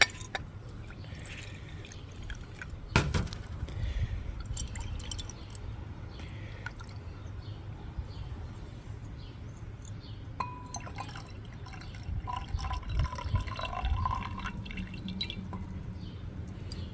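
Running water from a tap rinsing small metal pieces left over from copper dissolved with household chemicals, steady trickling and dripping with occasional clinks, fairly quiet and close.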